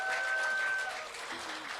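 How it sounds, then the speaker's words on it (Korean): A short burst of audience applause at a business lecture, steady clapping that softens slightly toward the end, with faint tonal sounds in the room. "여러분 모두에게 다시 한번 큰 박수 쳐주세요"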